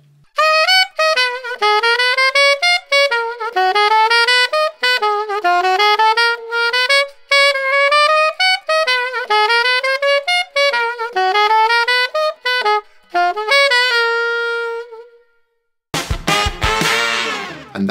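Saxophone playing the bridge of a jazz tune, a lively melodic phrase of quick and sustained notes, close and loud, ending with a short burst of other sound.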